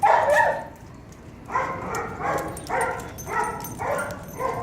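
Dogs bark in a run of loud, close yips and barks, with a brief pause after the first burst and then five or six rhythmic barks.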